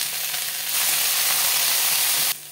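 Vegetables including drumsticks sizzle loudly in hot oil in a pan. The hiss swells after a moment and then drops back, with no voices.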